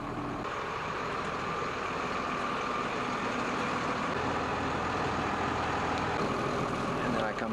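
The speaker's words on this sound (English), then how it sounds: "I don't ordinarily leave my bus running while I get off" A school bus engine left running during a Maryland pre-trip inspection, a steady, loud diesel idle rumble that holds constant throughout, close by.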